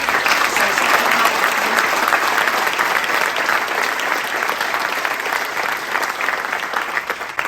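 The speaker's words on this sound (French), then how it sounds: "je voudrais qu'on leur donne une main d'applaudissement" Dense, steady applause from a large audience at the launch of an energy-transition innovation zone, honoring workers; the clapping stays loud and even for the whole stretch with no voices over it.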